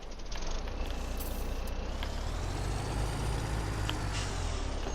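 A truck in Farming Simulator 17 gives a steady, fairly quiet diesel engine drone with short air-brake hisses and faint high reversing tones over it. No voice is heard.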